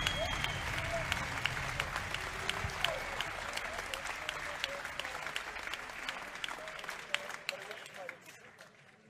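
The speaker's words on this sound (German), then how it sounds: "Verdienen da ordentlich einen Applaus für beide Jungs." Crowd applause for both fighters after an MMA welterweight bout in Munich, fairly faint and distant clapping with sharp individual claps standing out, a commentator's voice running over it.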